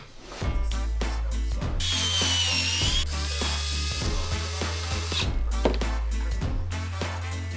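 A power tool or ratchet unscrews bolts to take apart a robotic arm leg, with repeated bursts of whirring and clicking, one longer high whine in the middle, close and loud.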